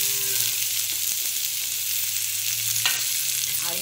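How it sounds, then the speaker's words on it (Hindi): Chopped onion frying in hot oil for baingan bharta, a loud continuous hiss with a low steady hum underneath and a couple of stirring clinks near the end; nobody speaks. "अब इसमें हम कटे हुए प्याज को डालेंगे"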